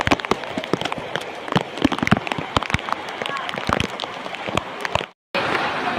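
Heavy rain falls on a mountain trekking trail, a dense steady patter with sharp drop impacts, briefly cut out near the end before resuming.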